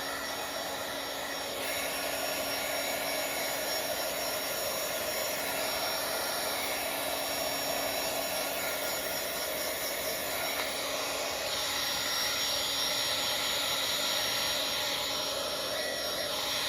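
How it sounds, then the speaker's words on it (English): A heat tool blows hot air onto a Bible journal page with a steady, loud, hair-dryer-like whoosh that runs unbroken throughout, with no talking. "I have to get my heating tool to the page"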